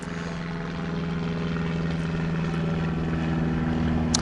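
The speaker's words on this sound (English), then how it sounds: "We'll wait until the plane goes by." An airplane passes overhead outdoors, giving a steady, broad engine roar with a low droning hum that holds at a moderate level and swells slightly as it goes by, with no talking.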